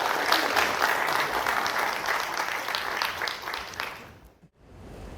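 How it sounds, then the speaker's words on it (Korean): Audience applause at a redevelopment briefing meeting, a steady broad clatter of many hands clapping for several seconds before tapering off, with a short dip near the end. "여러분 박수로 환영해 주십시오."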